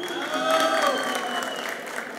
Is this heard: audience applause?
yes